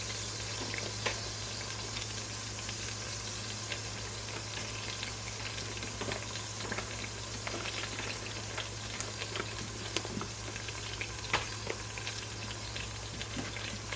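Vegetables sizzle and fry steadily in a pan while being stirred, with Celtic salt added; a close, continuous crackling hiss with occasional scrapes and clicks of the stirring utensil, no talking.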